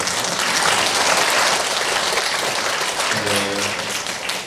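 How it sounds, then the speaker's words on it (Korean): A church congregation claps for the choir in a thick burst of applause that gradually thins, with a brief tonal sound near the end. "찬양대로에서 박수 한번 해주세요"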